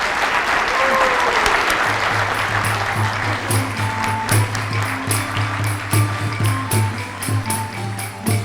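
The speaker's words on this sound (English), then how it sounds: "Let's give Barbara Boehm a tremendous round of applause." Loud, sustained audience applause fills a lecture hall after a talk about The Cloisters, dense clapping running steadily throughout, with a low tonal hum underneath.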